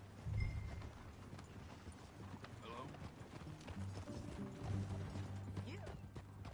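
A horse's hooves clip-clop steadily while being ridden in Red Dead Redemption 2, mixed with creaking tack and soft outdoor ambience, with voices speaking over the riding.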